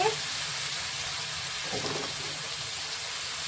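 Ginger paste frying in hot oil while a red amaranth leaf tikia is cooked: a steady, close, hissing sizzle runs throughout with a brief stir partway through.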